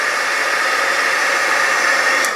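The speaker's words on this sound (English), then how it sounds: "I'm hitting it with the heat tool and moving it around" A heat tool blows steady hot air over a watercolor stencil during mixed-media crafting, a continuous loud whooshing hiss that runs the whole time with no talk.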